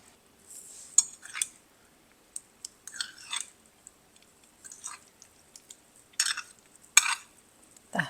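A spoon stirs bitter gourd pachadi made with sesame oil in a pan, producing scraping and clinking bursts at an uneven pace, close by with quiet pauses between strokes.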